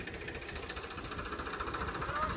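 A Farmtrac 60 tractor engine running at a steady, even throb with rhythmic low knocking pulses, quiet and somewhat distant, with a voice faintly audible over it.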